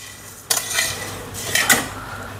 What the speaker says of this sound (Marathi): शेवया भाजताना एक काळजी घ्यायची, फार पटकन करपतात, हात सारखा चालूच ठेवायचा।